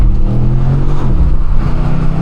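A BMW M850 drives hard along twisty forest roads in Germany, its engine a loud, close, continuous roar that swells and eases slightly as it pulls, with no talking.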